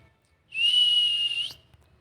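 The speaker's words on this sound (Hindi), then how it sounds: "टनी ने सीटी बजानी शुरू की।" A single shrill whistle blast, held steady for about a second then cut off, loud and clear against near silence.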